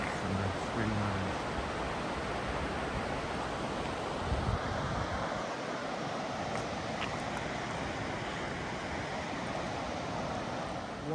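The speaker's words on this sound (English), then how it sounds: "And these are the rivers." Snowmelt runoff from mountains rushes down a river through a Japanese onsen town, forming a loud, steady broadband roar of flowing water with some wind noise and no clear talking.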